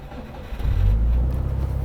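A Subaru rally car engine, its exhaust no longer rattling, rumbles low and then swells as it revs up close by, holding a throbbing drone to the end.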